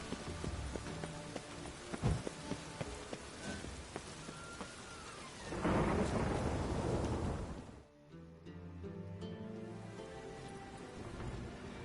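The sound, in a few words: rain and thunder in a video game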